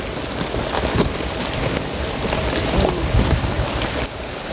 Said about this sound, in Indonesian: Nah, hujannya kembali menderas.